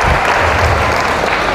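A church congregation in Cupang, Muntinlupa claps together in a dense, steady wash of applause that holds at an even level from start to finish, with no voice heard above it.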